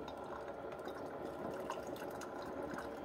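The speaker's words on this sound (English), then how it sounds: "And it's going to run all of that water and vinegar through." Water and vinegar trickle and gurgle through a Ninja Coffee Bar CF082 coffee maker during a descaling cycle, a faint, steady dribbling flow with no voices.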